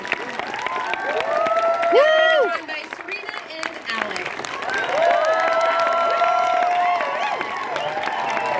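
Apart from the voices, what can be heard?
audience applause and cheering at a film premiere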